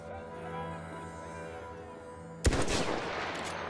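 Gunfire in the video game Battlefield 1: after a quiet stretch of steady background hum, a single sharp loud shot cracks out, followed by a ringing, noisy tail and further rattling bursts.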